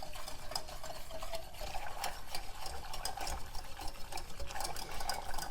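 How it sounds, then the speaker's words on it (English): Granulated sugar being whisked into demerara syrup in a pot, a steady scraping, swishing stir with rapid ticking whisk strokes throughout, fairly close and continuous. "And then I'll start whisking it again."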